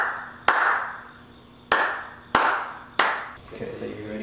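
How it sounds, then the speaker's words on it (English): Inside an old schoolhouse, sharp single hand claps ring out one at a time, four in all, each leaving a short reverberant tail in the quiet room, with a voice briefly underneath toward the end. "Pat's going to give us a clap down to sync everything."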